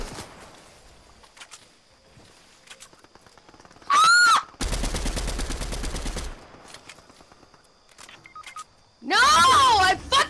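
Gunfire from a gun in the Fortnite Chapter 3 Season 1 video game, a loud dense burst of rapid shots lasting about two seconds midway, with other game sounds, short bright effect tones and a player talking around it.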